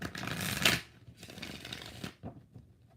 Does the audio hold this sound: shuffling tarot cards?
yes